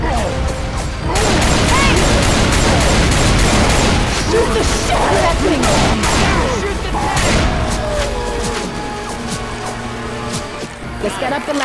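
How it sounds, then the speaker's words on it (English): Gunfire in the zombie shooter Left 4 Dead 2, loud rapid bursts and crashing impacts layered densely over several seconds with voices talking through the action. "Good shooting, huh?"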